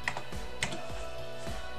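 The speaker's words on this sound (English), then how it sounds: "I'm going to type in" A few quick keystrokes tapped on a computer keyboard while a numeric value is entered into CAD modeling software, close and clear in an otherwise quiet room.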